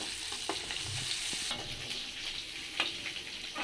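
Chicken frying in hot oil for mixed fried rice, a bright continuous sizzle with scattered spatters and the scrape of stirring, close and clear with no voices.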